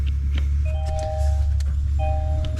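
A 2023–2026 Kia Sportage being switched on, with a steady low hum and electronic chime tones as the car powers up, close and continuous with no talk.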